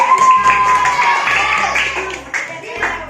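Scattered hand claps from a small classroom group, loose and uneven, with voices and classroom chatter mixed in.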